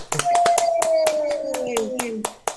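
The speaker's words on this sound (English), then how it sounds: "Come on, y'all. Give him a hand clap." Sharp hand claps from a small group, about a dozen quick separate claps in a loose rhythm, close and loud, with a voice over them.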